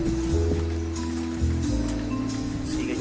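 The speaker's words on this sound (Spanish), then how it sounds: "Sigue lloviendo acá en Siloé" Steady rain falling at dusk over the Siloé hillside in Cali, a continuous wash of drops on surfaces with low rumbling background, no voices.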